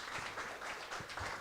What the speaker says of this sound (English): All right, another applause,